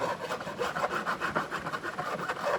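Rapid back-and-forth rasping of a file smoothing the fret ends along a guitar neck, close and steady strokes in an even rhythm with no speech.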